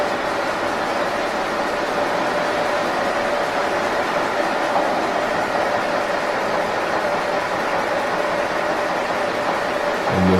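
Cooper-Bessemer GMV-10 gas compressor engine running in a compressor station, a steady dense mechanical roar and rumble continuing evenly throughout, with a brief knocking near the end and no voices.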